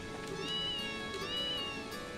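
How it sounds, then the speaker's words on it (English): Stylized cat meowing from the video game Trails in the Sky, a few drawn-out tonal meows over a steady game music and ambience bed, moderately quiet with no talking. "That's Trails in the Sky cat language."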